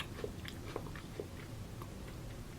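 Someone bites into and chews a crispy peanut butter Girl Scout cookie, a few sharp crunches followed by softer chewing, close up and quiet.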